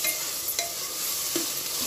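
Ground masala is stirred into a mutton and drumstick curry, with soft scraping and stirring strokes over a gentle background sizzle, close and fairly quiet.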